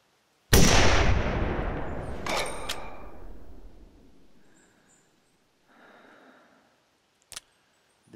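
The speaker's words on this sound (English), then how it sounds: "So let's try the rifle then." A single loud rifle shot cracks out in theHunter Classic during a Rocky Mountain elk hunt, its echo rolling away over several seconds, followed by faint distant rustling and a brief sharp click near the end.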